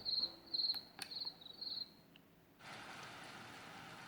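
Crickets chirp in short, high trilling bursts from a Mifa sound machine, then a steady soft hiss takes over and continues to the end.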